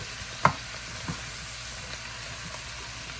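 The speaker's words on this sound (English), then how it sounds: "I'm just gonna let this saute right along. I got butter and oil in there." Carrots and broken-up greens sauté in a pan of butter and oil, giving a soft, steady sizzle throughout, with a single sharp clink near the start.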